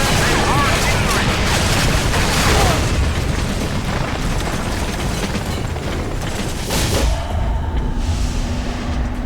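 Heavy battle din from the video game Battlefield 2: Modern Combat, with dense, continuous gunfire and booming explosions, loud and sustained throughout, and a steady tone entering near the end.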